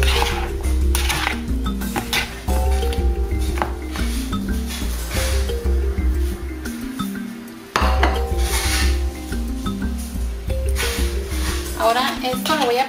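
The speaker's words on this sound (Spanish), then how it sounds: "Y los voy a revolver junto con la piña." Spoon clinking and scraping in a bowl while mixing ingredients together with pineapple for a Mexican piña loca snack, with repeated bright knocks and stirring strokes at close range, and music playing throughout.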